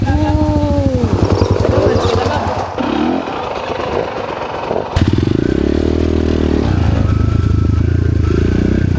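A motorcycle engine idles and revs up and down close by, with some clattering and thumps; voices are faintly audible in the background.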